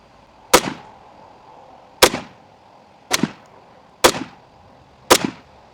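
Five sharp rifle shots from a Zastava M92 firing GROM ammunition, each a loud close crack with a short decaying tail, spaced roughly a second apart with quiet between them.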